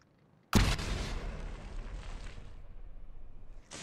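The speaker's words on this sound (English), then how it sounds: "Well, that was an explosion already." An explosion in the naval building game From the Depths bursts in suddenly as a loud boom, then rumbles and crackles for a couple of seconds before cutting off, with no talking over it.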